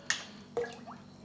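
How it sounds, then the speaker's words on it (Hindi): Chicken hearts dipped into water for a Southern-style fried recipe, giving two short splashy drips a half-second apart followed by a soft liquid squish, close and alone. "मैं इसको पानी के अंदर डिप करूँगा ठीक है, मैं इसको इसके अंदर डालूँगा, पानी के अंदर डिप किया"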